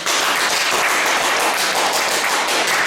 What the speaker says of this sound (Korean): 저에게 박수 한번 보내주시겠습니까?